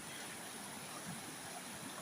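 A stream flowing past a closed restaurant and hotel on an outdoor walk, a steady broadband rush of running water, continuous and fairly even with no voices.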